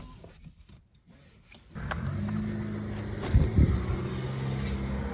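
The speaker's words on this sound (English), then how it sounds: "if you can hear the laundry machine in the background" A laundry washing machine runs in a kitchen, starting faint, then settling into a steady, low mechanical hum with a brief louder surge midway, continuing in the background.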